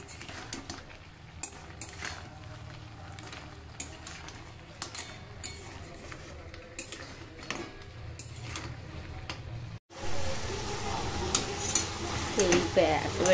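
A spoon scrapes and stirs masala crab in a pan over a gas stove, with soft repeated clinks and a steady low sizzle that grows louder and busier partway through.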